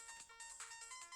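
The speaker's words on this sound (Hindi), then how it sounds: "इस टाइम किसका फोन बज रहा है?" A phone ringtone chirps in quick repeated electronic bursts, fairly faint and steady, with no talking over it.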